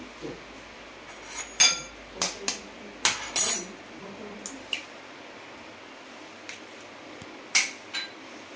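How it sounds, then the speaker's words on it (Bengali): An egg is cracked into a fish marinade of garlic and ginger paste for Kolkata-style chilli fish. Several sharp clinks and taps come in scattered bursts over a quiet kitchen background. "একটা ডিম ফাটিয়ে দিয়ে দিচ্ছি"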